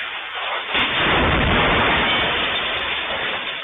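A loud explosion after a rocket strike on a residential area in Iraq, a booming blast that rises sharply and rolls on as a dense, rumbling roar of noise with no voices.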